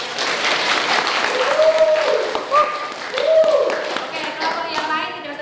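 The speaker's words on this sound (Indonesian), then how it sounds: "Tepuk tangan dulu buat kelompoknya." Classroom applause for a student group, a steady patter of many hands clapping throughout, with a teacher's voice speaking over it.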